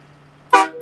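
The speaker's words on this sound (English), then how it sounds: "Air horns are meant to be loud." A truck air horn blasts loud and close during a convoy street protest in Ottawa, one sharp honk followed by the start of a second, cutting through a low steady hum.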